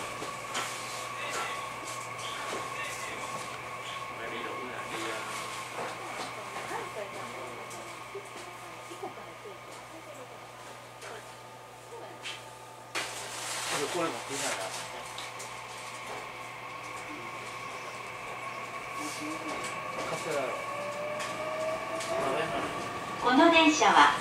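Inside a JR Wakayama Line local train, a steady low rumble and rattle of the carriage runs throughout, with a brief louder clatter partway through and an onboard announcement playing over it.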